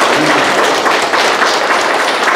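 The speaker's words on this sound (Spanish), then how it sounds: "Aplausos por Jairo, nuevo cristiano." Applause for a newly baptised boy at a christening ceremony, a dense, steady patter of many hands clapping close by for the whole stretch without pause.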